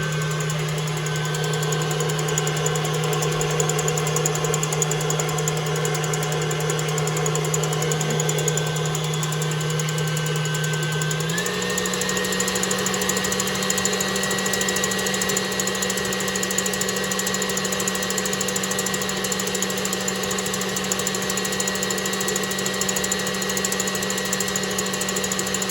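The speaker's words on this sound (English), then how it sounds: "I'm gonna put my egg whites and my cream of tartar in here and whip them up." An electric mixer whips egg whites with cream of tartar, giving a loud, steady motor whine that jumps to a slightly higher speed partway through and then holds there.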